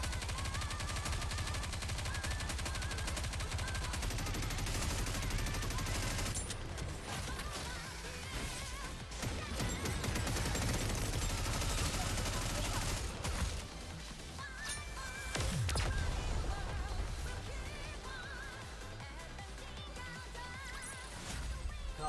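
Rapid gunfire and mechanical weapon noise from combat in the video game Goddess of Victory, dense and continuous for most of the stretch, with a brief lull near the middle before the firing surges again.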